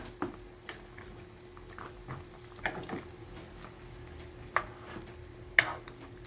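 Quiet bubbling and soft sizzling from a pot of sinigang with pork ribs boiling on the stove, with occasional sharp clinks and stirring sounds breaking through.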